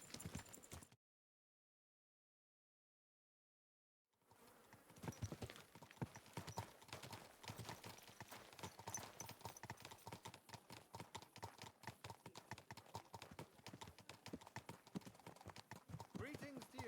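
After a short silent gap, steady horse hoof clops trot along continuously in the video game Kingdom Come: Deliverance II, with a muffled rhythmic clatter and some background noise.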